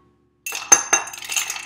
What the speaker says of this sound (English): Now I'm going to add ice, a lot of it